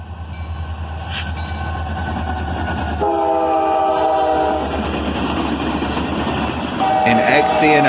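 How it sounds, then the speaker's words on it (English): An XC&O SD40-2 locomotive leads an empty continuous rail train, its engine droning loud and close with a horn blast, steady rumble and rolling wheel noise as the cars pass. "SD40-2 leads this empty continuous rail train."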